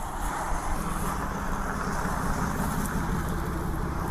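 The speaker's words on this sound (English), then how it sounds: "Ain't her car loud?" A loud car engine runs steadily and close, a constant dense roar with no talking over it.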